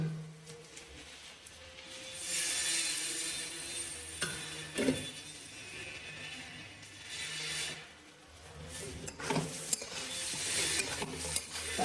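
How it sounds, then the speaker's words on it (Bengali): Spice paste with coriander powder stir-fried in a pan for a cabbage dish with fish head, faint sizzling under repeated scraping and clinking stirs of a spatula, with no talk. "মশলাটাকে ভালো করে কষে নেব।"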